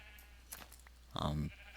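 A single short Minecraft sheep bleat rings out clearly over a quiet background, lasting about a third of a second.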